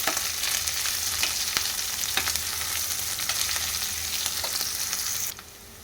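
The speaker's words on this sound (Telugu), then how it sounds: "ఒక మీడియం సైజ్ ఆనియన్ కట్ చేసి వేస్తున్నాను ఫ్రై చేసుకోవాలి" A chopped medium-size onion frying in a pan with mustard seeds for ridge gourd dal gives a steady, close sizzle with light crackles that runs throughout and drops away abruptly near the end.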